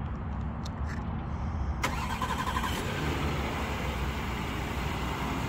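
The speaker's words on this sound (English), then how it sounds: "It does come equipped, come equipped with a remote start." A silver 2019 Volkswagen Atlas started by remote, with a sharp crank and catch about two seconds in, then a steady close idle rumble.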